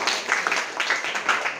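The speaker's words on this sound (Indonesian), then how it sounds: "Tepuk tangan untuk kamu." Students applaud in an Indonesian classroom lesson, a dense, even patter of many hands that holds steadily for under two seconds at moderate loudness.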